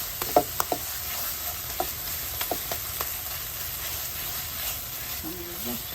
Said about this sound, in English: Mix it again and again until it's really, really mushy and soft.